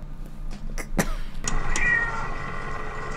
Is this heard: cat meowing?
yes